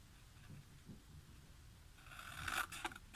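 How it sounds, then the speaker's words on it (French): Scissors or a blade snip a small slit into a paper pop-up card box, a brief close scraping cut near the end after quiet handling. "Donc on va couper là une petite fente."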